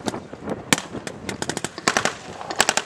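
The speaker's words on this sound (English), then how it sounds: "Oh, hand grenade has been thrown." Combat in Chechnya in summer 1995: sharp bursts of gunfire and a hand grenade blast crack out in irregular, close, loud impulses, with rapid clusters of shots near the end.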